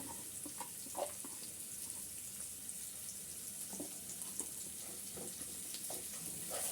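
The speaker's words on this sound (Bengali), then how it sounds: "আমি আদা রসুন পেস্টটা কষিয়ে নিচ্ছি" Ginger garlic paste sautés with softened onions in a pan, giving a faint, steady sizzle and hiss broken by soft stirring scrapes.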